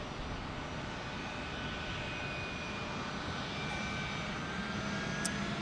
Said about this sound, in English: American Airlines 3113 is in, arriving next.